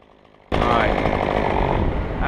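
A chainsaw with its chain fitted too tight, cutting wood during a stump or root job on a front lawn, kicking in abruptly after a quiet moment and then roaring loud and steady with a harsh, strained tone.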